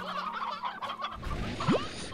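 Fowl in the video game Slime Rancher, hens in a ranch pen, giving a short burst of clucking and gobbling calls over a steady game background, ending with one rising squawk.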